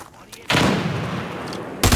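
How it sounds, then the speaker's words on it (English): Video game gunfire and a frag grenade blast, with a sudden loud burst that rolls on and fades over about a second, then another sharp report at the end. "Tossing frag!"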